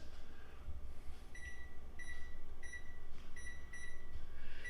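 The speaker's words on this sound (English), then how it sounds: "So I'm gonna set the timer for 20 minutes." A kitchen oven timer being set gives a series of short, bright electronic beeps at irregular intervals, close by over a low background hum, with no talking.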